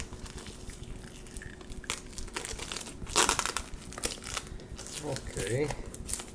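Crinkly plastic wrapping being peeled and torn from the top of a music CD case, irregular crackling bursts close by, louder near the end.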